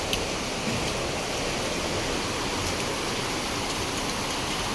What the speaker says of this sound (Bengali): ভালোই লাগে না বৃষ্টি হইলে